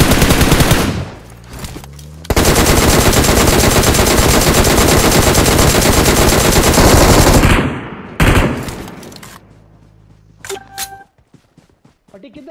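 Rapid loud gunfire bursts in a shooter video game, one long sustained volley between two shorter ones, very close and dense, then fading to quieter game sounds with brief beeps while players talk.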